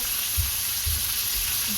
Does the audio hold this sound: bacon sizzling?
yes